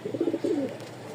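Lahori pigeons, a Pakistani toy breed, give a short soft cooing phrase of a few pulsed notes, close and alone with no talk over it.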